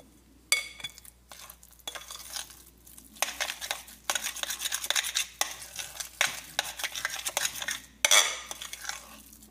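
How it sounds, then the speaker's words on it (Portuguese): Canned sardines in their own sauce being stirred and folded into mashed potato, a spoon clinking and scraping against the bowl in repeated close strokes with brief pauses. "Aí tu envolve bem essa sardinha aqui nesse purê de batata"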